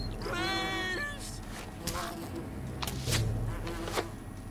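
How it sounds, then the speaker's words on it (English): A wasp buzzes in the video game Fable Anniversary, a high insect drone with harmonic whine near the start, followed by scattered sharp hits and thuds from arrows. "Trying to pull aggro on this wasp, but it doesn't seem to care that I'm pelting it with arrows."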